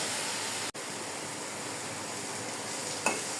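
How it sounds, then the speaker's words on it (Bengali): Jute leaf greens (pat shak) fry in a pan with a steady, even sizzle, broken by a sharp clack near the start and another scrape of the spatula toward the end. "এখন এই শাকটা আমি ভাজা ভাজা করে নেব।"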